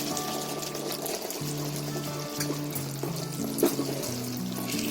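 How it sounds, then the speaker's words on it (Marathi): A little water is poured into a simmering Dragon Chicken sauce thickened with cornflour, giving a soft, steady trickle over a low bubbling hum with some faint clinks. "थोडासा पाणी टाकते"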